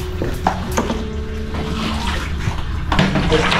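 Water poured out to rinse away dirt during cleaning, a loud, close, continuous splashing gush with faint background voices.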